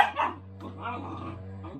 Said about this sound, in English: the dog's noises are happy noises